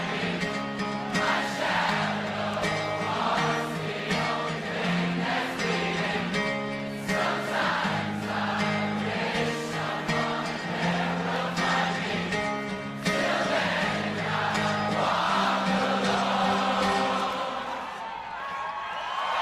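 Crowd at a live concert singing along to a song, a dense mass of voices over loud band music, steady and sustained throughout with occasional cheers.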